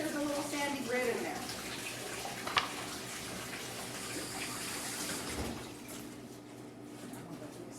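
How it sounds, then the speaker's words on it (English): Cold tap water runs into a sink as fresh leaves are rinsed under it, a steady, close rushing splash that eases off slightly toward the end. "I'm going to take it over to the sink and run some cold water through the leaves like this"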